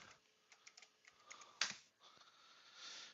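Bursts of clicky keystrokes on a computer keyboard as the date is typed at a vintage ComputerLand BC-88 PC booting from an MFM hard drive, with irregular taps, one sharper louder key press midway, and quiet faster typing at the end.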